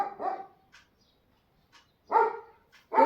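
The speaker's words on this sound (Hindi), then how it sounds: "भौंकने चली जाती है एमी" Amy, a pet dog at home, lets out short barking bursts close by, a cluster at the start and two more after a quiet pause, with no one talking.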